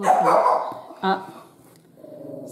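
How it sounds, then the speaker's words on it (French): A dog gives a couple of short barks indoors while someone speaks in French, the barks briefly breaking through her talk. "ça c'est mon chien"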